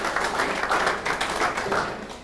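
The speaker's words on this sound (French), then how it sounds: "Vous voulez vous faire un applaudissement à Roby" An audience applauds for Roby during a lecture, with a sustained burst of many hands clapping, fairly loud and close, tapering slightly at the end.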